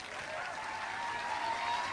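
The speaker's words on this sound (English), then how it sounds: "Thank you so much for clapping." An audience claps in a steady, dense patter of applause that holds at moderate loudness throughout and swells slightly toward the end.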